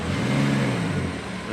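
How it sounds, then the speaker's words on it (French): Rolls-Royce Cullinan Mansory with a Bulgarian plate rumbling past on a Monaco street, a loud deep engine drone held briefly and easing slightly at the end. "Et le Cullinan Mansory là, il fait un bruit"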